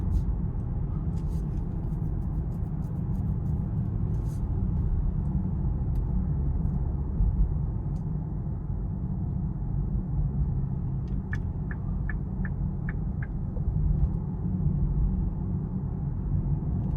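A 2026 Lincoln Aviator with a twin-turbo V6 rolls over the road, filling the cabin with a steady low rumble of tire and road noise, with a few light clicks and taps near the end.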